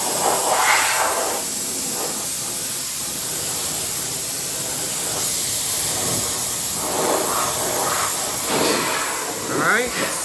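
A spray gun hisses steadily as coating goes onto a rusted Toyota frame, covering the bare metal inside and out. The broadband spray is close and continuous, rising and falling slightly with each pass.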